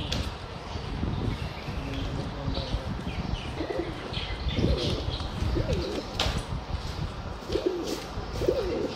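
Several pigeons of a black-faced Sheikh breed coo in soft repeated phrases against a steady bed of background noise, occasional chirps rising over the low murmuring calls.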